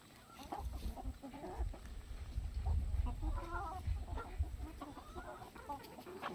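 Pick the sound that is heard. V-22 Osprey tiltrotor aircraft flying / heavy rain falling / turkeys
turkeys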